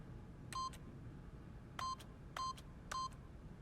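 Four electronic keypad tones sound as a PIN code is entered on a keypad in The Stanley Parable, the first alone, then a pause, then three evenly spaced beeps over a faint low room hum.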